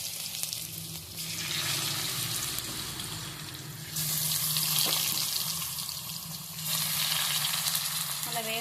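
Marinated tuna pieces dropped into coconut oil and frying, a bright continuous sizzle that swells in bursts as more fish goes in, close and fairly loud, with a low background hum and no talking.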